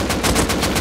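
Rapid AK automatic gunfire in the game Rust Console, a fast burst of about five loud, evenly spaced shots under a steady background.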